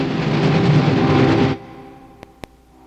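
Passenger train running on rails, a loud rumbling roll that cuts off abruptly midway, followed by quiet with two sharp clicks.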